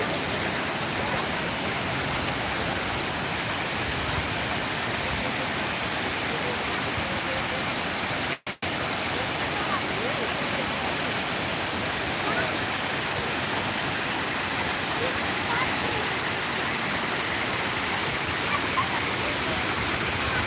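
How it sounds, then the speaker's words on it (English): A waterfall in Provo Canyon roars steadily and loudly, a dense unbroken rush of falling water with one very brief dropout partway through. "Take a look at the waterfall again."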